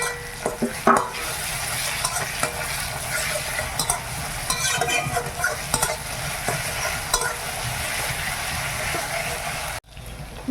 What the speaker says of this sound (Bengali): রসুনটা ভালোভাবে ভাজা হয়ে গেছে,